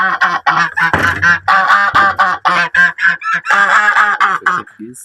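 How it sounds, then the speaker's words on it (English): Two geese honking loudly and repeatedly at close range, a dense run of harsh, overlapping calls filling the whole stretch with only brief gaps. "Two geese."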